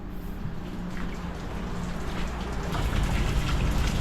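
Rain pours steadily onto a boat deck at sea during a storm, a dense, continuous patter close by that grows slightly heavier toward the end, with no voices.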